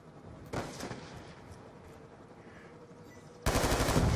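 Video-game gunfire in Call of Duty: Black Ops 2 comes as two loud bursts of rapid automatic shots, one brief near the start and a heavier, sustained volley at the end, with a quieter stretch between and no talking.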